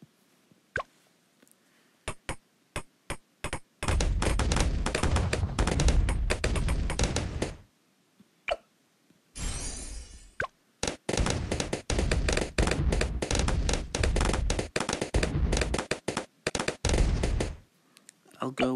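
Cluster bombs in the tower defense game Bloons TD 6 set off dense, rapid bursts of crackling pops and bangs, with a few isolated pops before and between long loud barrages; a voice speaks at times amid the blasts.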